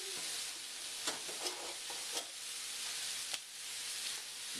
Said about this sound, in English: So I'm just going to add my fresh pasta right to this boiling water.